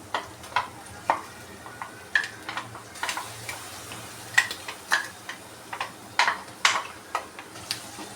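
Green chili, garlic and rock salt paste frying with onions in a pan, heard as a steady run of close spoon taps and scrapes over a low sizzle, with no talking.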